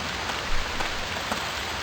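Steady rain in the survival game Stranded II, a dense continuous hiss of drops falling on surfaces, with a few slightly louder patters breaking through. No voices are heard.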